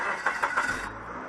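A car engine cranks and starts after a broken spark plug was replaced on a cylinder 2 misfire: three quick starter pulses, then the engine catches and settles, moderately close.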